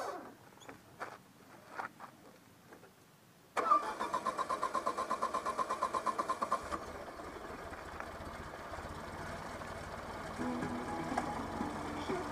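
A Citroën BX 16 TRS is parked and quiet, broken by a few soft clicks. Then its engine catches with a loud burst and settles into a steady, rhythmically pulsing idle close by.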